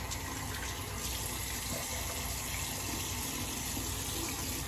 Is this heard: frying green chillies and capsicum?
no